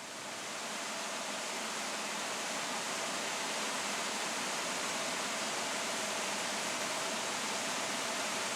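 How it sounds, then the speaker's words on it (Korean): A mountain valley stream flows in a steady, even rush of water, a constant close hiss with no pauses or voices. "다시 경쾌하게 흐르는 계곡의 물소리"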